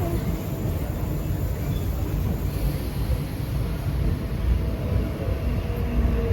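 Continuous low rumbling train noise at a Mumbai railway station fills the scene, steady and moderately loud, with wind buffeting the microphone.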